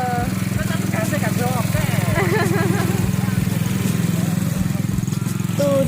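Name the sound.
ATV engine running on circuit track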